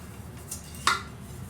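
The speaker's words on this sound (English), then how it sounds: "And of course, then there's this little frying pan." A small camping frying pan, sized for two people, is picked up and handled, giving a faint soft tap and then a single brief metallic clink with no talk over it.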